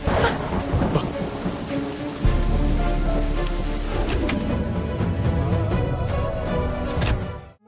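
Heavy rain pours loudly and steadily, with rumbling thunder rolling underneath, filling the whole clip before it cuts off abruptly at the end.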